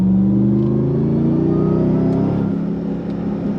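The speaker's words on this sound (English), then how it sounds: "it's the sound of that supercharger whine and all of that great" A supercharged 2024 Hennessey Ram TRX Mammoth truck engine revs steadily with a deep rumbling roar and a thin supercharger whine riding over it, loud and close throughout.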